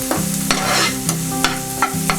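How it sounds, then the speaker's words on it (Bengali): Chicken pizza topping being stirred and fried in a pan, a steady loud sizzle with repeated scraping strokes of the spoon, close and alone. "ঠিক এরকম আমরা এটাকে ভাজতে থাকছি।"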